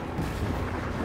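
Rapid gunfire from a weapon in Destiny 2, a PC first-person shooter, heard as a dense, rumbling stream of muffled shots that blend into a steady low roar for about a second.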